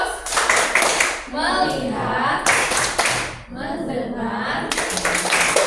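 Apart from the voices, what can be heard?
class clapping the 'tepuk fokus' clap chant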